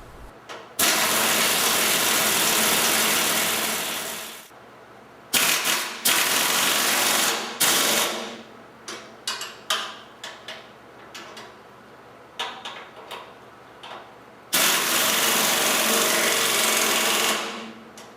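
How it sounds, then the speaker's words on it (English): An air-powered butterfly wrench tightens bolts on the pillow blocks while a Titan Mk9 is assembled. Loud, sustained hammering rattle comes in long runs, broken by a stretch of short stuttering bursts and clicks, close by and with no talk. "then tighten the whole works with the butterfly wrench."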